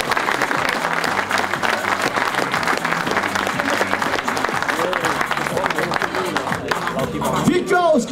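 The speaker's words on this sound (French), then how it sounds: "Et les applaudissements du public." Sustained audience applause at a 2017 rally podium ceremony, dense, steady clapping from a crowd that fills the whole stretch, with faint voices and cheering mixed in toward the end.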